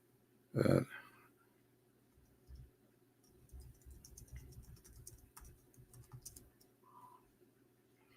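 Soft, scattered clicks of fingers typing on a computer keyboard, a quiet irregular patter after a brief louder thump, faint and close in an otherwise quiet room.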